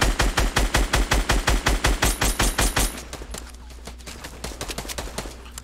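Automatic gunfire in a building and survival video game, a rapid, evenly spaced burst of about twenty loud, close shots, then quieter scattered single shots over a low hum.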